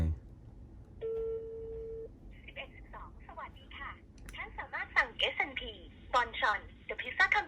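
A phone call placed from an iPhone running iOS 14 gives one steady ring tone lasting about a second, then a voice speaks through the line in short bursts.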